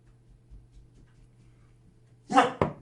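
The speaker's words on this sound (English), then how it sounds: "excuse my dog" After a low steady hum, a dog gives two quick sharp barks close by near the end.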